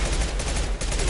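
Rapid automatic gunfire from the Mass Effect 2 video game, a dense, loud, continuous burst of shots with a brief dip partway through.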